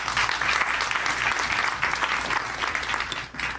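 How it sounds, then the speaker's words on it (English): Audience at a property networking event in Soweto gives presenters a round of applause: several seconds of steady, dense clapping that tapers slightly at the end. "Let's give them a round of applause."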